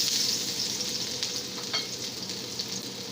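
Garlic sautéing in oil in a hot pan, a continuous bright sizzle and crackle with occasional stirring clinks, close and steady, with no talking.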